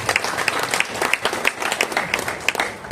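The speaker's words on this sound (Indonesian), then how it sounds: "Tepuk tangan untuk beliau." An audience at a Ramadan break-the-fast gathering claps steadily and fairly loudly, a sustained patter of many hands with regular sharper claps punctuating it.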